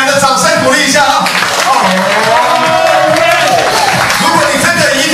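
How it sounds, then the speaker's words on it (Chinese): Audience at a motivational seminar clapping and cheering, a dense loud wall of applause mixed with shouts and whoops throughout, with a voice talking over it. "再次给他们掌声鼓励一下啊"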